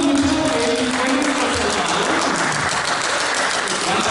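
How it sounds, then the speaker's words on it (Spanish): An audience at a theatrical evening applauds, a dense, continuous wash of clapping and crowd noise at steady loudness throughout, with faint voices mixed in. "El aplauso"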